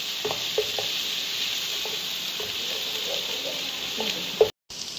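Ginger and garlic frying in a pan: a steady, close hiss of sizzling oil with light tapping and scraping from stirring throughout, then a brief drop-out near the end.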